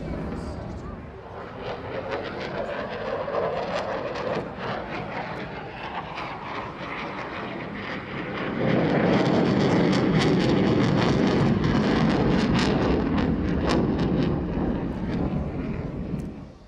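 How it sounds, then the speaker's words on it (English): A twin-engine air superiority fighter jet flying past at an airshow, a broad roaring engine rumble that swells louder midway and stays intense, with a commentator talking over it. "An air superiority fighter has to be manoeuvrable and agile, and I think that's precisely what we've got here"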